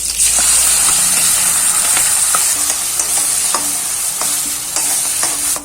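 Onion and tomato paste sautéing in hot oil with curry leaves for a hotel-style salna: a loud, steady sizzle and hiss with occasional scraping stirs, close up and without speech.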